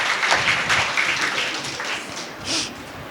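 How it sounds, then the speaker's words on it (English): An audience at a religious jubilee celebration in a church hall applauds a group of sisters, a steady, moderately loud wash of clapping with a brief swell near the end. "let's give them thunder applause to our sisters"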